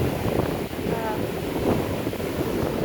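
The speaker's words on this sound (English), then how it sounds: "the wind is very strong, and it's just hard to hear my voice." Strong Hurricane Milton winds buffet a beach and batter the microphone with loud, continuous roaring gusts, surf faintly mixed beneath.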